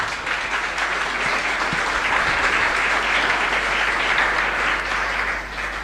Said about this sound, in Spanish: quisiera pedirle un fuerte aplauso para ellos